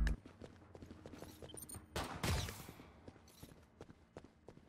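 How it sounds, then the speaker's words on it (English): A distinctive cue from the Killing Floor 2 video game that plays when hovering over a teammate who can be healed, heard as a brief bright burst amid busy clicking, clattering gameplay sounds. "when you hover over a teammate who can be healed, you'll hear a distinctive sound"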